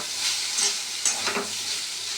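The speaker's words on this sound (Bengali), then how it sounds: "আর সবশেষে হচ্ছে কাকের ভাজা" Vegetables sizzle and crackle in a hot pan for a vegetarian meal, a steady close frying hiss with a few brief stirring scrapes and pops.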